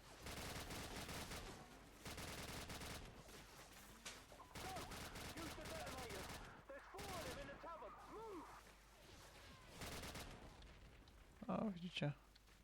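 Call of Duty 4: Modern Warfare gunfire sounds as long, dense volleys of rapid shots with brief pauses between bursts, fairly faint overall, with a voice briefly heard near the end.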